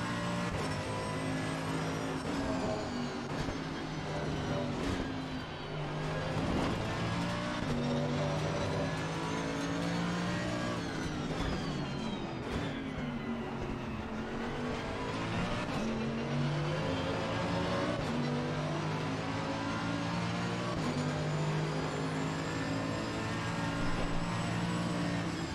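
A Mercedes-AMG race car in the racing game Assetto Corsa Competizione, its engine droning steadily at high revs with rising and falling pitch through gear changes, loud and continuous, with other cars around it.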